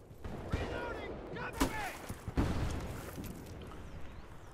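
A 40 mm grenade and other weapons going off in Battlefield: Bad Company 2, several sharp, loud bangs scattered among gunfire and game noise, with voices in the background.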